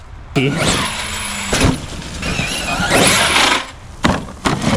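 A loud, sustained mechanical squeal from a fast RC car's brakes rises and falls over a whirring motor, with sharp clicks and brief bursts, close by.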